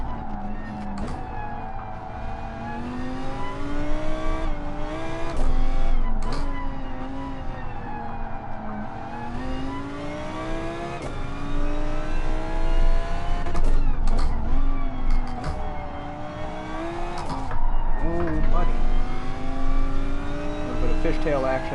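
A rear-wheel-drive race car in GT Sport, sliding and fishtailing with oversteer, holds a loud, sustained engine whine that rises and falls with revs, with brief breaks at gear changes and someone talking over it.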